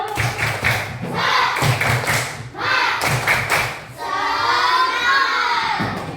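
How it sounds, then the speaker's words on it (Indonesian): Schoolchildren in an Indonesian classroom clap together in the quick rhythmic 'tepuk semangat' pattern, the bursts repeating in sets, with their voices shouting along between them. "Tepuk semangat"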